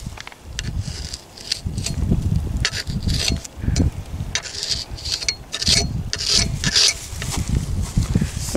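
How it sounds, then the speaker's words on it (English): Mud and dirt are scrubbed off the wrapped surface of a silage bale before it gets painted. It is a loud, close, continuous rough rubbing and scraping with rhythmic strokes. "rub the dirt off first"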